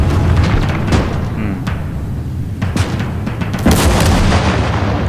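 A heavy 85mm anti-tank gun fires in the World War II strategy game Gates of Hell, with loud booming blasts and rumbling battlefield noise throughout and a sharp report near the end.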